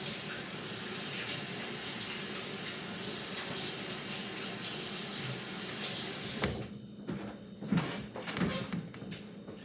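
Hands rinsed under a running kitchen tap, a steady loud stream of water that stops partway through, followed by scattered wet handling and clatter.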